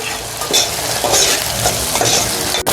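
Ginger, garlic and green chili sauté in oil in a single pot for a mutton curry, with a steady sizzle and repeated spatula scrapes and stirs against the metal, close and loud with no talking.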